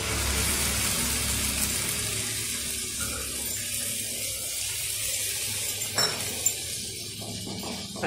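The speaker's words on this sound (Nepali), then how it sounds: "अब स्टिम हाई गरेर हामीले यसमा पानी थपिदिने हो।" Water pours steadily into a hot pan while an egg and soyabean curry cooks, a continuous close rushing wash that holds for several seconds and ends with a couple of small clinks.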